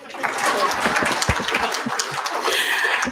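Scattered audience clapping at a conference, close and uneven, mixed with a voice speaking over it.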